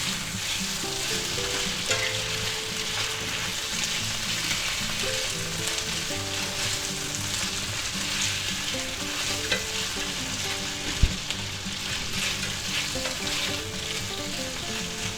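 A whole 8-ounce can of mushrooms stirred into a spicy beef and broccoli stir fry, with steady sizzling and scraping throughout, a tonal background layer, and one sharp knock near the end.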